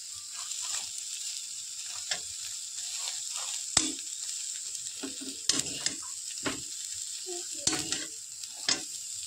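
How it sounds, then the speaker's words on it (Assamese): Potatoes fry in oil in a kadai, a steady soft sizzle with intermittent scrapes and clinks of stirring, close and fairly quiet with no talking. "ইয়াতে এবাৰ মই কেৰাহীত তেল দি দিছোঁ আৰু মই আলুখিনি ভাজি লৈছোঁ"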